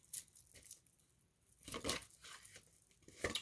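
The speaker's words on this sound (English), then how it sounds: "I have been fumbling with the shuffling of the cards for everyone's reading today." Papery shuffling and riffling in short bursts, tarot cards being handled and shuffled close by, with quiet gaps between.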